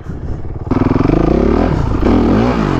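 A motocross bike ridden enduro style through the woods, its engine close and loud, with a sudden rise into a steady buzzing drone and then a revving pitch swoop, no talk.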